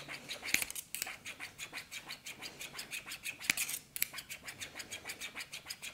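Household scissors are sharpened at home with quick, rhythmic scraping strokes, a steady run of about two dozen close, fairly quiet rasps, with a couple of sharper snips standing out.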